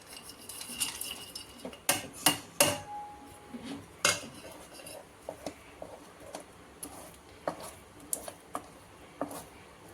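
A spoon stirs a wheat flour and coconut milk halwa in a pan, giving close, repeated metallic clinks and scrapes against the pan in an uneven rhythm.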